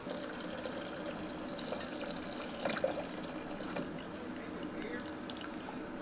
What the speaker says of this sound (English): So I'm gonna cycle the hot water through here.